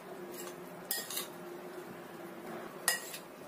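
Utensils stir steamed eggplant in a pot, giving faint scraping with two sharp metallic clinks about two seconds apart, in a quiet kitchen.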